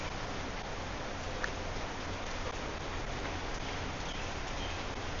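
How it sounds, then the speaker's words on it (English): Steady rain falling during a morning street walk in Phuket, Thailand, an even, continuous hiss of drops on surfaces with no voices, moderately quiet and unbroken throughout. "And you guys can enjoy the sound of rain like Megan."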